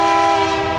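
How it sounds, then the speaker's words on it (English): Passing train sounding its horn beside a garden, a loud sustained multi-tone blast holding steady through the short clip over a low rumble, with no talk. "Now that the train is gone"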